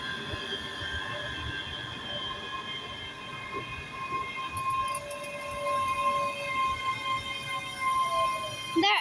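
A class 385 electric train pulls into Glasgow Queen Street station, its humming motors and high tonal whine building steadily with wheel squeal and rail clatter, close by, while a voice briefly speaks over it.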